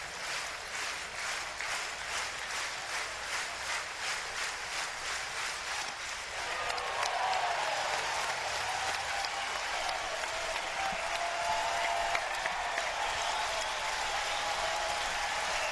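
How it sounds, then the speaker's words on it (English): Crowd at Swayze Field cheering and applauding during a 2018 NCAA regional college baseball game with Ole Miss near victory, a broad distant roar that swells midway and holds steady, with a commentator's voice faintly over it. "Crowd on their feet here at Swayze"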